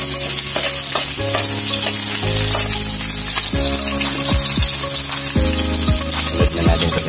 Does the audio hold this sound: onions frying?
yes